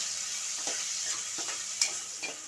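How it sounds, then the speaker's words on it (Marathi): Chopped onion and a green chili sauté in a pan over medium heat, a steady close sizzle punctuated by several spoon scrapes and a sharp clink, with no speech. "आता कांदा लालसर होईपर्यंत छान असा परतून घ्या"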